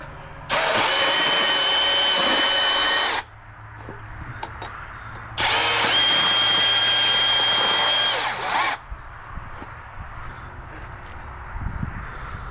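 A bandsaw in a plumber's workshop runs loud and steady in two bursts of about three and three and a half seconds, with quieter workshop noise between and after them.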